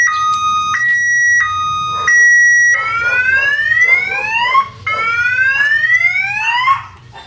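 A car or motorcycle anti-theft alarm sounds loudly: steady shrill tones alternate, then switch to rapidly rising whooping sweeps that repeat several times.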